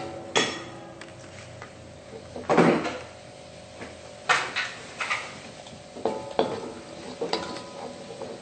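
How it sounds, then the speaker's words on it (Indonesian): Ingredients are sautéed in melted margarine in a pan for a honey spicy sauce, with quiet frying under repeated scraping and clanking of a utensil against cookware in irregular bursts. "Nah, ini kita tumis ya"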